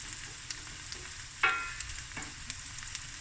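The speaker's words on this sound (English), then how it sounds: "I'm just frying it" Onions and peppers sizzle in a hot pan for seafood rice, a steady crackling fry with a sharp stir or scrape about halfway through, close and alone without talk.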